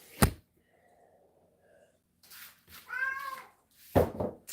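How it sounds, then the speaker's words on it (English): A house cat meows several times at close range, with short drawn-out calls separated by quiet pauses and a few sharp bumps in between. "What are you meowing about?"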